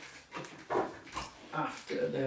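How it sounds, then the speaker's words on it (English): Dogs barking outside, heard through a window as several short, muffled barks spaced irregularly at a moderate distance. "Got the dogs barking outside as per usual on cue."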